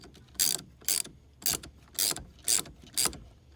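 Ratchet cranking a thread tap back and forth while repairing the steering of a Ford Bronco II or Ford Ranger, six sharp, evenly spaced clicking bursts about half a second apart, close and distinct.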